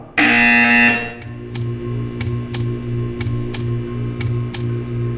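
A loud, steady electronic buzzer from the Portal 2 video game sounds for about a second, then gives way to a quieter hum with regular ticking clicks.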